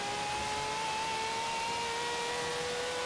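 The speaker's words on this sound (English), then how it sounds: "I just love how high this thing revs." A Nissan R33 GTR LM racing engine in Forza Horizon 3 holds a high, steady whining rev, with a continuous buzzing tone that climbs slightly throughout.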